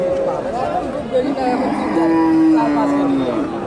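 A large Friesian dairy cow at a rural cattle haat gives long, drawn-out moos close by, with a sustained low call in the second half, over faint market crowd chatter.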